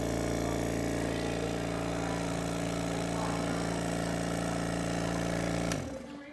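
An air blower used on a silica chromatography column runs with a steady, loud motorized whine and hum, then cuts off abruptly near the end as the sound winds down.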